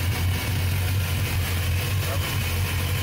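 Engines of a 2003 Larson 310 Cabrio boat running in neutral, a steady, deep, loud rumble with little change over a few seconds.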